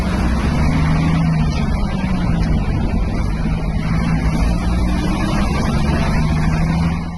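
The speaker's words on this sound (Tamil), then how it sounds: "கொஞ்ச தூரம் லாரி அமைதியா வேகமா அந்த காட்டுப்பாதையில போயிட்டு இருக்கும்போது" A lorry speeds along a forest road, its engine giving a loud, steady droning hum with a low rumbling texture that holds throughout before easing slightly at the end.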